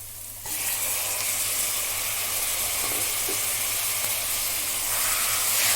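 Chicken and onions frying in a pan for a village-style chicken curry, heard as a loud, steady, close sizzling hiss that surges when the food goes in and continues unbroken, with a low hum underneath.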